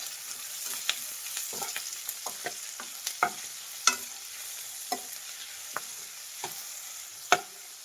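Chicken gravy fries in a pan while being stirred: a steady soft sizzle runs throughout, broken by a dozen or so sharp scraping clicks of the spoon at an uneven rhythm, close and fairly quiet, with no voices.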